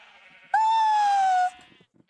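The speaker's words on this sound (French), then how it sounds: "C'est des petits moutons!" A rainbow-colored sheep from a Minecraft Lucky Blocks mod gives one loud, clear bleat lasting about a second, standing alone over a quiet background.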